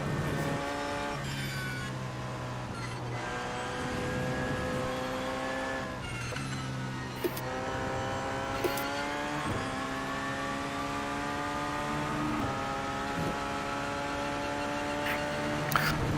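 A race car engine in iRacing screams around Le Mans during 24-hour practice, its pitch climbing and dropping through repeated gear shifts and braking zones, loud and continuous.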